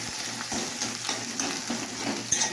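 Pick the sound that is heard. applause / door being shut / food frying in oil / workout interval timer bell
food frying in oil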